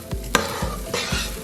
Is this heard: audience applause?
no